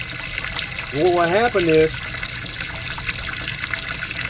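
Water drains steadily from an aquaponics growbed, a continuous trickle and gurgle heard up close while someone talks briefly over it.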